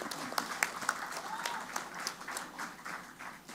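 Sparse, quiet hand claps from a small group at a press gathering, with irregular individual claps standing out over murmured background talk.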